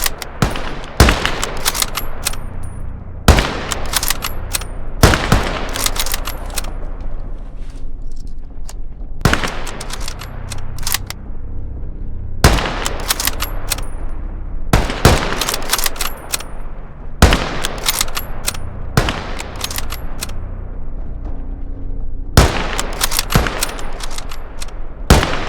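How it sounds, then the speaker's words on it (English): Volleys of rifle and machine-gun fire at targets on a German recruit training range in Call to Arms: Gates of Hell Ostfront, loud sharp bursts repeating every couple of seconds with reverberant tails between them. "Shoot at the targets, Soldaten!"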